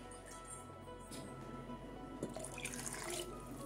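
Water pours and splashes steadily into a cooking pot nearby, fairly soft, with a slight rise in trickling and splashing toward the end.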